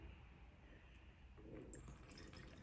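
Homemade nappy wipe spray being poured into a 250 ml bottle, a faint, soft trickle of liquid that swells slightly partway through, heard alone.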